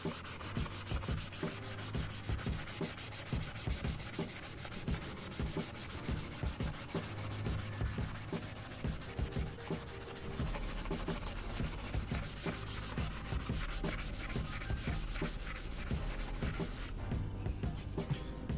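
Small scrubbing brush worked steadily over a car wheel coated in oven cleaner, a continuous close, loud rasping scrub with fast repeated strokes throughout, no voices.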